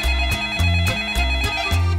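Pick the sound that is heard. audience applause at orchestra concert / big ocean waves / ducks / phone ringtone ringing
phone ringtone ringing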